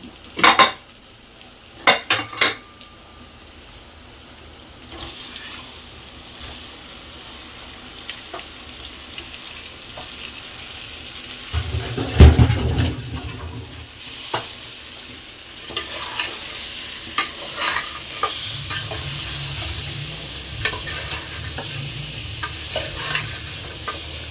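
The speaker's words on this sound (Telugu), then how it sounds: "ఇప్పుడు చికెన్ వేసుకుందాం." Chicken pieces sizzle and fry in a pan for a dosakaya chicken curry, with a steady hiss and repeated scraping, clinking stirs of a utensil against the pan, loud and close, building after the meat goes in.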